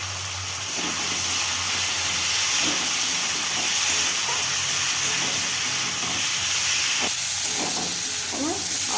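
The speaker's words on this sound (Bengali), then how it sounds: "আলুর সঙ্গে মশলাটা খুব ভালোভাবে কষানো হয়ে গেছে, তেলও ছেড়ে দিয়েছে মশলাটিতে।" Potatoes sizzle in oil with a masala of cumin powder, coriander powder and Kashmiri red chili powder, a loud, steady, close frying hiss filling the whole stretch without pause.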